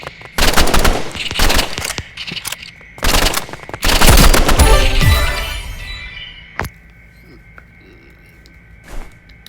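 Loud, rapid bursts of automatic gunfire from weapons in the video game Rivals crackle in quick clusters, swelling into a dense fusillade before tapering to scattered, fainter shots.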